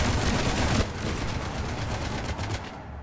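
Rapid gunfire in Mass Effect 3 rattles out as a dense, loud, continuous stream of shots that thins slightly partway through and keeps going to the end.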